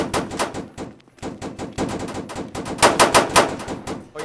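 Rapid automatic gunfire from a Roblox warzone-style shooter game comes in dense bursts with brief gaps, loud and close, with no talking over it.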